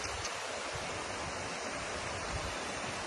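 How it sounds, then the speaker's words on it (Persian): Salty river water flows out of a salt mountain, a steady broadband rush of running water, close and continuous, with no voices. "این رودخونه ای از نمک، آب شوری که از اینجا میاد"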